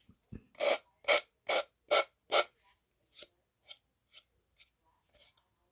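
Rhythmic rasping strokes of a hand file on wood, about ten even passes, strong at first then lighter and more spaced, close up, no talking.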